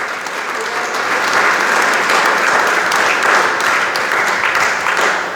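A church congregation breaks into loud, sustained applause, with many hands clapping densely and evenly throughout, close and full, without a clear break.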